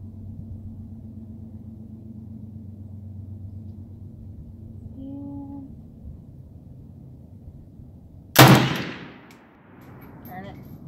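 A single sharp, loud shot from an AK-47 rifle cracks out after a steady low hum, followed by a rolling echo that fades over the next couple of seconds.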